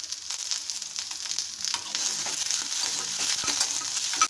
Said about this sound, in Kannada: ಇದು ಸ್ವಲ್ಪ ಹುರ್ಕೊಳ್ಳೋಣ. ಮೊದಲಿಗೆ ಸ್ವಲ್ಪ ಕೆಂಪು ಹುರ್ಕೋಬೇಕು.